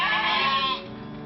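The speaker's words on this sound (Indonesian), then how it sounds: "mencari rumput untuk makan kambing peliharaan" Goats kept as household livestock bleat loudly in a sustained, wavering call lasting most of a second before easing off, close to the listener with no talk.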